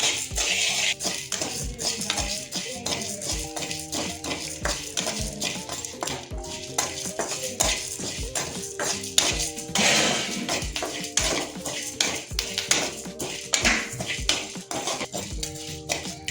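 Rice and sago grains dry-roasting in a pan until blackened, with a spoon scraping and clattering against the metal in a steady busy rhythm, close and fairly loud throughout.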